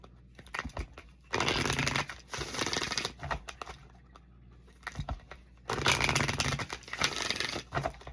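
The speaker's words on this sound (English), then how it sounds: "Give these a good shuffle. It's been a while since I used this deck." An oracle card deck being shuffled by hand, with two bursts of riffling and crisp card rustle separated by a quieter stretch of soft handling, close and fairly loud.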